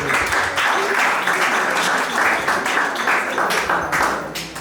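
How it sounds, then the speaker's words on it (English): Applause from the audience at a PechaKucha Night presentation event in Manila, a lively round of clapping with individual claps audible in a steady patter and some voices beneath. "please a warm round of applause for Mr."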